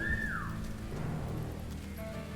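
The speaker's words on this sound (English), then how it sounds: "And now we're going to whistle again." A game character in War Mongrels gives a short whistle to lure a guard: a single clear tone that slides downward at the start, over a steady background hiss like rain.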